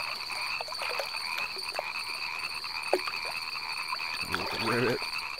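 Frogs croak at night in a moonlit countryside over a steady, shrill insect chorus. Soft scattered calls build to a louder, rhythmic burst of croaking near the end.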